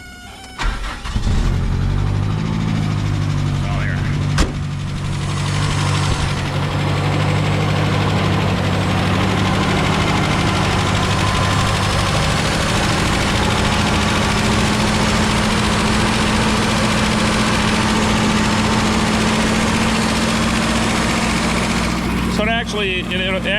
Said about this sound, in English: I primed the carburetor. So I'm gonna twist the key and see if it starts up.